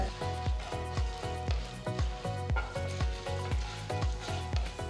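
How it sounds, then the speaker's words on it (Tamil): Chana dal and urad dal crackle and sizzle in hot oil, with steady frying noise and regular stirring scrapes pulsing through it, close and fairly loud. "ஒரு டேபிள் ஸ்பூன் கடலைப்பருப்பு ஒரு டேபிள் ஸ்பூன் உளுத்தம் பருப்பு சேர்த்து வறுத்துக்கோங்க"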